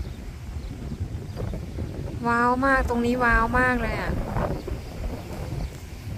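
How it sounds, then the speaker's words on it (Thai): Strong wind buffets the microphone on a seaside clifftop along the Algarve coast, a steady low rumble throughout, while someone speaks excitedly over it in the middle. "วันนี้จะลมแรงหน่อยนะทุกคนมีลมหน่อยนะคะจะได้ยินเสียงลมหน่อยเนี่ย"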